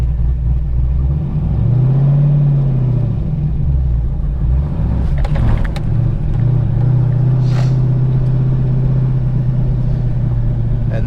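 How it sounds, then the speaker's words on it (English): A manual stick-shift car pulls away as the clutch is slowly released with gentle throttle, the engine hum rising in pitch, dipping, then settling into a steady drone, heard close from inside the cabin without talk. "I'm gonna slowly release the clutch while I'm slowly giving it gas."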